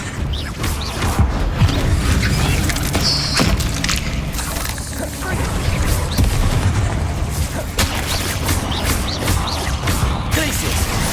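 Spell-casting bursts from Hogwarts Legacy combat, a disarming charm among rapid magical impacts, booms and crashes layered over a dense, continuous game soundtrack with no clear pause.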